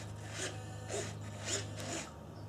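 Servos on a Skywing Slick 55-inch RC plane driving the ailerons back and forth, four short buzzing whirs in an even rhythm over a low steady hum, close and fairly quiet.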